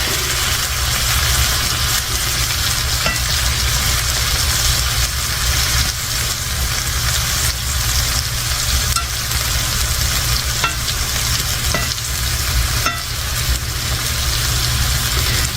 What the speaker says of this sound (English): I'm using my meat turner to flip the tomatoes.